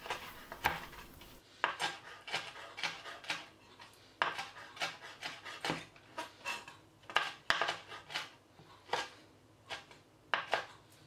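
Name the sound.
chopping mushrooms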